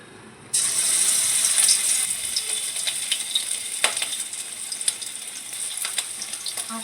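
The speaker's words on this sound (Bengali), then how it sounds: "এবার আস্তে আস্তে চিংড়ি মাছগুলো ভেজে নেবো" Prawns fry in a pan, a sizzle that starts abruptly and then continues steadily, with scattered sharp crackles and clicks throughout, close and moderately loud.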